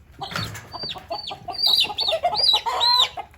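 Several young chickens in a coop cluck and squawk close by in a busy, overlapping series of short calls, with no talking.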